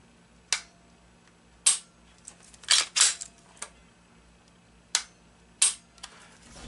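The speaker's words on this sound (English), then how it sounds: "Demonstrating trigger pull, take up is very smooth, short, good crisp." Dry-fire trigger pulls on an unloaded Walther PPQ M2 9mm pistol produce sharp, isolated metallic clicks, some paired or doubled as the trigger resets, spaced irregularly against quiet tabletop silence.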